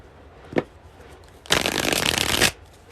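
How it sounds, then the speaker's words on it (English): Tarot cards shuffled by hand: a short snap near the start, then about a second of dense, continuous riffling close by, with no talk. "I'm going to shuffle for a minute and then we'll get started"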